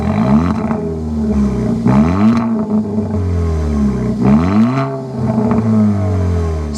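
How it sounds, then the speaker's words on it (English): A 2024 Kia Forte GT engine starts and revs, its exhaust note swelling and falling in several loud, close throttle blips over a steady idle. "We need to go inside and start it up so you can hear that exhaust note."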